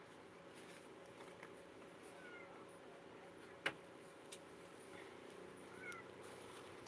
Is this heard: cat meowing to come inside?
yes